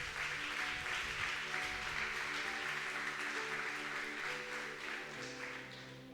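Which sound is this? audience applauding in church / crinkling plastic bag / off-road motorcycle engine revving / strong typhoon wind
audience applauding in church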